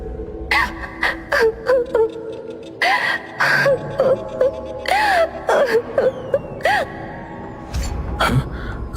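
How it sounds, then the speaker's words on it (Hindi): Cartoon character crying, a series of short high wailing sobs and whimpering gasps in quick bursts, loud and close, with no talk over them. "तभी उसे किसी के रोने की आवाज आई।"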